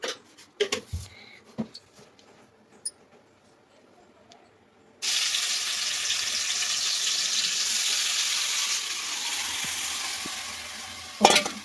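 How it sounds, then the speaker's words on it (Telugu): Chopped tomatoes for tomato chutney hit a hot pan with a sudden loud sizzle that holds steady for several seconds, after a stretch of quiet kitchen clatter and small knocks, ending with a sharp clank. "టమాటా పచ్చడి కోసం టమాటా వేయించుకున్నాను"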